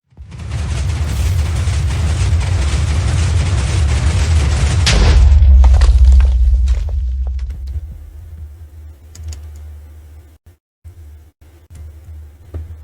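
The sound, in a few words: TNT explosion from bomb machine in video game Minecraft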